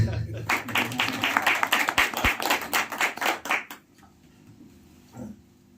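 An audience at a talk bursts into loud applause, many hands clapping together in a dense, rhythmic wave for about three and a half seconds before it abruptly fades into quiet room tone with a faint sound near the end.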